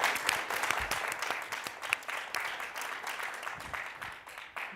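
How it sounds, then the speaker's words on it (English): An audience at a political forecasting panel event applauds the panelists, a dense patter of many hands clapping steadily throughout, moderately loud and slightly distant in a large room, with no speech over it. "If we could give them a round of applause for taking the time out of their schedule to join us."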